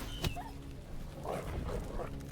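A dog enemy in the turn-based medieval strategy game Crown Wars yelps and whimpers while being attacked, with a sharp hit at the start and several short whines over quiet game ambience.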